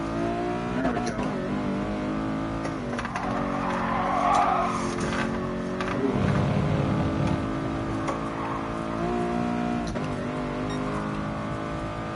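Lexus LC 500 in Gran Turismo Sport at Tsukuba, its engine revving and shifting steadily with brief tire squeals, while someone talks over the car.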